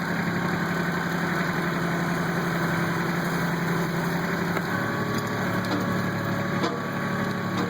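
Kubota tractor engine idling and running steadily while moving concrete with its front bucket, a continuous near drone with a slight shift in tone partway through.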